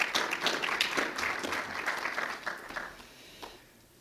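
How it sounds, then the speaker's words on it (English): Audience at a Campaign for Liberty convention in Wisconsin claps in a sustained round of applause that holds steady, then tapers off and fades near the end, with no speech over it. "Let's give each other a round of applause."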